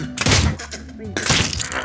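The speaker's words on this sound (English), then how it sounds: "Duncan attacks and pins him to the wall." A man is slammed and pinned against a wall during a fight in a hitman action film, giving heavy, close thuds mixed with grunting voices.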